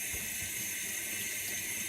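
Tap water runs steadily into a kitchen sink while mushrooms are being prepared, a constant hissing splash at an even level throughout with no talking.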